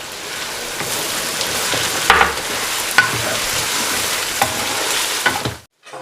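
Steady crackling sizzle of crushed garlic and ginger frying in a hot pan for chicken karahi, with a few sharp clinks of a utensil stirring, continuous and close, ending abruptly.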